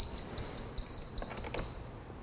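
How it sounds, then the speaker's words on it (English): Dupray ONE Plus steam cleaner sounding its low water warning: a series of five evenly spaced, high electronic beeps, moderately loud and alone in a quiet room. "When the low water indicator light comes on and the machine starts beeping"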